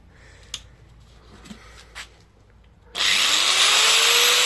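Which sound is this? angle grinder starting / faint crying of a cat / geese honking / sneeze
angle grinder starting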